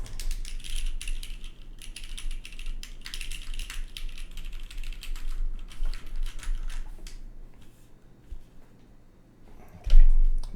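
Plastic keycaps for a mechanical keyboard build clatter and click as they are handled and sorted, a dense close rattle that thins out toward the end, followed by a single soft bump.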